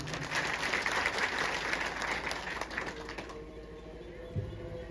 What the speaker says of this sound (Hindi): तो आपके लिए भी जोरदार तालियां होनी चाहिए।